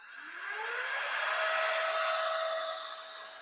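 A handheld electric air duster with three adjustable speeds, rated at 100000 RPM, blows air in a steady high-pitched whine that rises as it spins up and then holds near and loud for several seconds.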